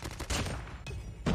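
Bursts of BK57 burst-rifle gunfire in the Call of Duty video game, three loud clusters of rapid shots separated by brief gaps.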